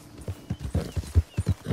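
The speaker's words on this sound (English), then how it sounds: "Look it, we're getting this horse." A horse's hooves clip-clop in a steady, quick rhythm in Red Dead Redemption II, close and fairly loud, with no speech over them.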